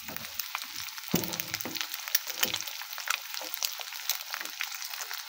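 Onion and egg frying together in a pan, a crackling sizzle with sharp pops and spits that rise and fall, close and fairly faint, with a brief louder burst early on.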